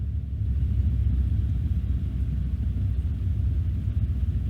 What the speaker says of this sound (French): Je décolle sur la 29 gauche